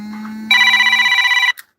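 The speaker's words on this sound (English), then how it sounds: "I got a phone call." A telephone ringing loudly and close, one bright electronic ring burst lasting about a second after a steady background tone, then cutting off abruptly.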